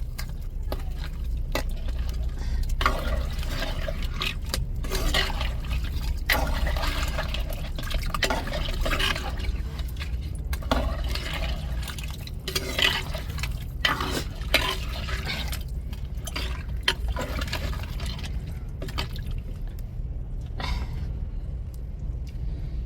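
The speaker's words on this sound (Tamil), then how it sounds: "இப்போ மசாலாவை நல்லா கலந்து விட்டுருவோம்." Ground masala paste mixed with water for a crab curry is stirred in a pot, making continuous wet sloshing and liquid swirling with soft drips and utensil clinks, close and moderately loud.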